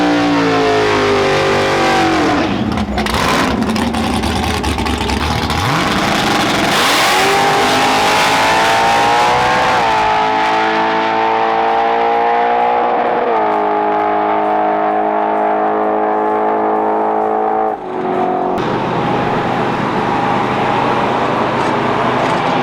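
A big-cam Dodge Dragpak drag car makes a loud quarter-mile pass. The engine roars at high revs and rises in pitch through several gear changes, then fades into the distance. No one speaks.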